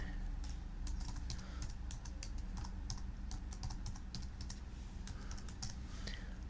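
Rapid, irregular clatter of computer keys as a username and password are typed at a desk, steady close taps with brief pauses and a faint background hum.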